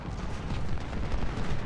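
Dense, rumbling volleys of artillery and musket fire in the Civil War strategy game Ultimate General: Civil War, a continuous low crackling roar heard at a distance.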